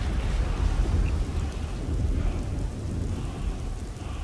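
Steady rain pours down in Skyrim, a dense low rushing wash with rumbling undertones like distant thunder, continuous and even with no voices.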